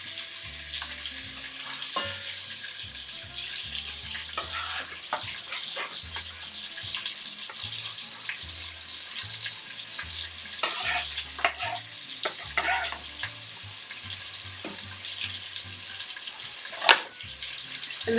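Vegetables sautéing in oil for a ragu sauce, a continuous close sizzle with repeated scraping stirs throughout and occasional louder clatters, no voices.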